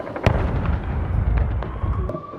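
Anti-aircraft guns fire through the night at drones over Sevastopol, Crimea, a dense rumble of overlapping booms with a few sharper cracks, loud and continuous over a couple of seconds.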